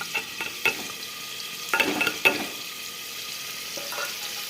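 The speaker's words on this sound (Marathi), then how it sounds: "तेलात आपले पनीरचे तुकडे आहेत ना आपले, ते तळून घेऊयात." Paneer pieces fry in hot oil inside a pressure cooker on a gas stove, a soft steady sizzle with several clattering stirs and scrapes, the loudest cluster near the middle, close with no speech.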